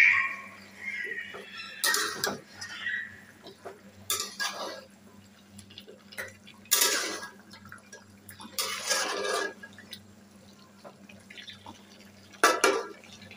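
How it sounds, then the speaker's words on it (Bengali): A bent wok being straightened and handled on a stove while chicken fries: several sharp metallic clanks and scrapes spaced a couple of seconds apart, with quiet kitchen background between them. "কড়াইটা সোজা করে দিই, কড়াইটা হয়ে যাচ্ছে বাঁকা।"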